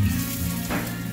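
Tadka tempering for Sindhi kadhi sizzles steadily in hot oil, a close, continuous frying hiss with a brief surge of crackle partway through and no talking.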